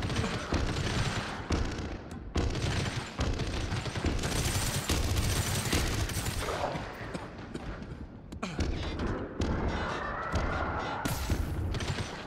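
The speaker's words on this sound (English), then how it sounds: "Keep on shooting." Sustained video game gunfire in a multiplayer mech shooter, dense and continuous bursts and volleys rattling throughout, with players talking over the fighting.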